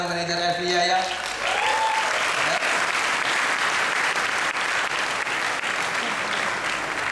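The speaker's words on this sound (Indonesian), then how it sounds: "Tepuk tangan dulu untuk Diamond Manager Evia ya." Audience at a Crown Ambassador night event in Sidoarjo breaking into sustained, dense applause for a diamond manager, loud and close, starting right after a brief voice and continuing unbroken to the end.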